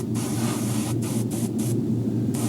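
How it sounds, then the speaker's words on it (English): An airbrush sprays paint around the gills of a largemouth bass taxidermy mount in short hissing bursts, steady close-up spray broken by brief pauses. "I'm going to go under and spray around the gills right now"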